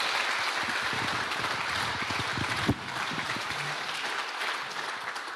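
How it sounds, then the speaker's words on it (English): Sustained audience applause for an everyday heroes award finalist, a full, even wash of many hands clapping, with a sharp knock midway and the clapping continuing steadily afterward. "a big round of applause for Trevor Turner"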